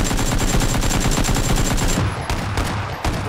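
Rapid bursts of automatic gunfire in the battle royale shooter PUBG (Battlegrounds), loud and close, firing in dense repeated volleys before tapering into a few scattered shots.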